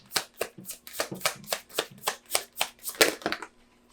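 Tarot cards are shuffled in steady, rhythmic riffles, about a dozen crisp, close bursts repeating roughly twice per second.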